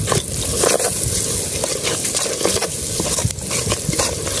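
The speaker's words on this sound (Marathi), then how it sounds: "मस्त अशी ग्रेव्ही परतवून घे." Crab gravy with browned onion being stirred and sautéed in a pan: a steady, loud sizzle with repeated scraping and clinking of the spoon against the metal, and no talking.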